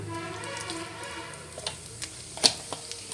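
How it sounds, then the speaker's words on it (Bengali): Bay leaves and whole cumin seeds sizzling in hot oil in a pan, a soft, steady crackle with scattered small pops and one sharper snap near the end. "তেলটা গরম হয়ে আসলে একটু তেজপাতা আর গোটা জিরে ফোড়ন দিয়ে দিলাম"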